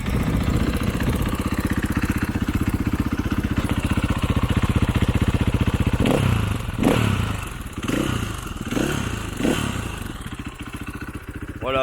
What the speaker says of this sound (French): Je vais vous faire partager aussi un petit peu un démarrage de la pétoire